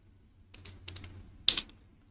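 Typing on a computer keyboard during a coding lesson: a few soft key taps and then a quick cluster of louder clicks, close up with no voices.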